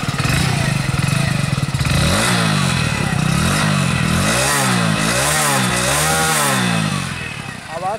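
A 2021 Hero Splendor Plus BS6 motorcycle engine revs repeatedly, rising and falling in pitch with loud, rough bursts close by, settling at the end.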